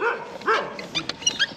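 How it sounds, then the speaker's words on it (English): A dog barks and yips several times in quick, uneven bursts, fairly close, with short whimpering sounds between barks. "they still keep barking, the dogs"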